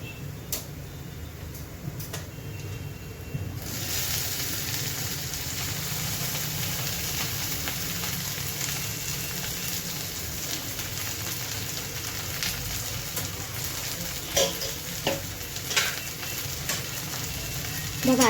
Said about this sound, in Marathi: आता ह्याच्यामध्ये आपण टाकणार आहोत आपली बारीक कापलेली भेंडी.